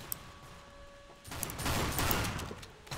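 A quiet stretch gives way to a loud, dense burst of rapid gunfire and explosions from the multiplayer game Team Fortress 2, lasting about two seconds.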